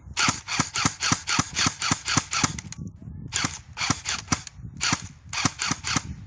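A Dragon Gun M4A1 airsoft rifle fires in semi-automatic mode, giving sharp, close shots in a quick steady series, then a short pause, then more bursts of single shots.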